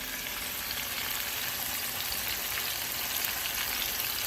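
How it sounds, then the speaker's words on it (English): Shrimp frying in a pan for an orange pepper fish and shrimp dish, a dense, steady sizzle that holds even and unbroken throughout, fairly close and loud with no voices. "Alright, you can see my shrimp is cooking"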